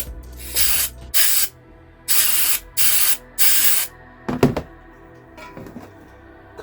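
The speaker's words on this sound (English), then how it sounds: "I'm going to give it a blast through with some brake cleaner first of all" Brake cleaner hisses from an aerosol can onto a damaged Reliant Supervan short engine block in five loud, close bursts of about half a second each, followed by a few clunks and scrapes of handling.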